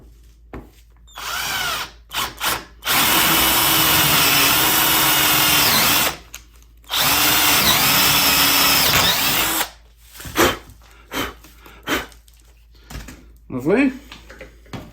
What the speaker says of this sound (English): Okay, now we can drill.